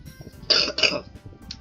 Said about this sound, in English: I have a cough lately.